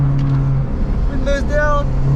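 A Honda S2000 with a K&N intake drones steadily from inside the car, with a rising rev blip as it downshifts. Someone may be talking under the engine.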